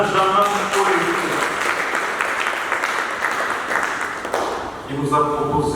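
Applause from the audience at a French national eloquence contest swells between stretches of a voice speaking, a broad crowd clapping that continues for a few seconds before dying away as talk resumes.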